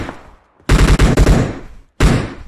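PUBG Mobile gunfire: a loud, close automatic burst of rapid shots, then a brief pause and a second burst cut short at the end, with no talk over it.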